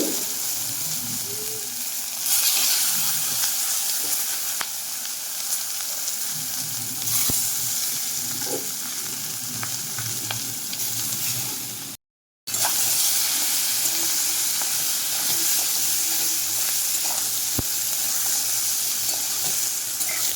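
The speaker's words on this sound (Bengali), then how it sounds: "এবার নাড়াচাড়া করে আমি ভেজে নেব লো টু মিডিয়াম আঁচে রেখে রান্নাটা করতে হবে" Eggplant pieces frying in a pan over low to medium heat, a loud, steady sizzle with intermittent scraping and clinking as they are stirred, briefly cut by a moment of silence midway.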